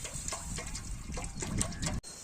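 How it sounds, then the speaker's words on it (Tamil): Water pours into a hot kadai while Maggi noodles are cooked village style outdoors, a soft, steady splashing and gurgling at low volume that cuts off abruptly near the end. "நம்ம தண்ணி ஊற்றுறாங்க பாருங்க, அது கிளியராக உங்களுக்கு தெரியும்"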